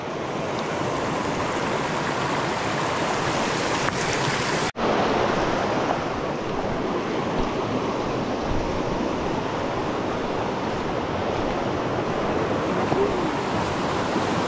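A river with a strong current rushes loudly and steadily throughout, a dense, unbroken roar of water close by with a brief dropout partway through.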